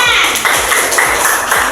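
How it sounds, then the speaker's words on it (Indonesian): A classroom of students claps their hands together in a dense, continuous burst of applause that fills the whole moment, with a few louder individual claps standing out. "Tepuk tangan."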